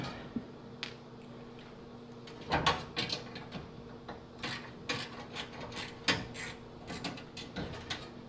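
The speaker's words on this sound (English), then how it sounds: "you're putting a 1/4-inch socket on, and you're just basically taking each one of these screws out" A 1/4-inch socket backs screws out of a GE dryer during a gas conversion, making quiet clicking, ratcheting and metallic ticks in irregular bursts, with a clatter near the middle and no talk.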